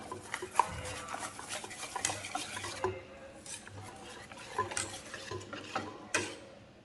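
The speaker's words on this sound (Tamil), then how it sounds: "நல்லா கட்டி இல்லாமல் கரைச்சி வச்சுக்கலாம்." Ragi flour being stirred into water in a bowl, a steady run of soft scraping and light clinking strokes, close and fairly quiet, with no talk.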